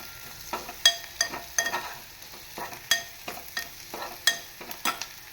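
Onion softens in a pan as a spoon scrapes and stirs it in separate strokes, each stroke a sharp clatter over a quiet, low sizzle, with no voices.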